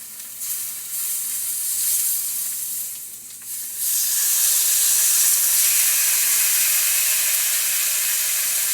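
Meat hits hot butter in a pan and crackles into a loud, dense sizzle that swells after a brief dip and then holds steady and close.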